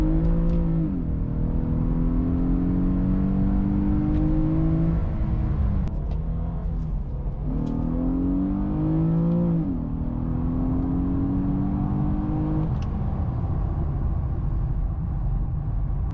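Infiniti Q50 sedan with a 3.7-litre VQ37 engine in second gear, heard from inside as a steady droning hum that climbs in pitch in several repeated pulls, with faint clicks over it.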